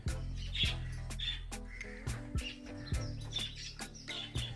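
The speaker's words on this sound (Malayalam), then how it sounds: "രാവിലെ കിളികളുടെ ഒച്ചപ്പാട്" African parrots and other birds make a noisy morning racket of squawks, caws and sharp chirps, repeated calls overlapping close by against a busy low background.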